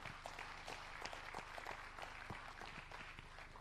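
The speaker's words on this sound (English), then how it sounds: "a round of applause to ourselves?" Audience at a conference session on African connectivity applauds itself, a steady, fairly quiet wash of clapping from a room of people with scattered sharper claps, running throughout with no talk.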